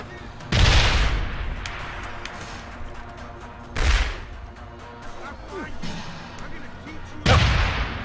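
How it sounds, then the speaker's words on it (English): Grenades detonate around a corner in the video game Deus Ex: Human Revolution: three loud, heavy blasts land a few seconds apart, each a sharp crack that rolls off into a rumbling tail, with low game ambience between them. "Throwing grenades around the corner, apparently."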